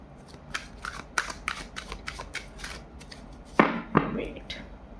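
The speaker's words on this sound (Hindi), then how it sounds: "यूनिवर्स अच्छे से शफल करेंगे पहले कार्ड्स को" Tarot cards being shuffled by hand, a run of crisp riffling flicks and slaps at close range, with a couple of louder snaps near the end and soft speech underneath.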